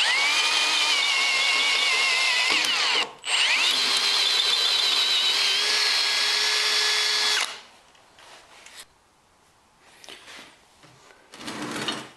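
Cordless power drill with a larger bit, part of an electric ice auger build, whines loudly for about seven seconds with a brief dip in speed, then stops, leaving faint handling clatter and a short final burst.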